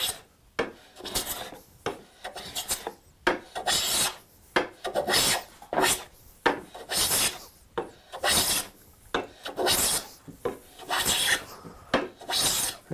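Hand plane drawn across wood taking shavings, a series of about a dozen rasping strokes in an uneven rhythm, each a short scraping swish, close and clear with no talking.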